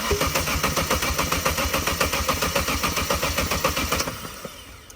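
A Vauxhall Corsa VXR engine with the fuel pump fuse removed cranks over rapidly with a rhythmic chugging from the starter, never catching, then winds down and stops, outdoors in the rain.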